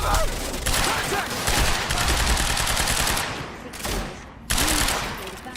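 Bursts of rapid automatic gunfire in the video game Quantum Break, loud and close, with repeated volleys that break off and resume alongside shouted in-game voices.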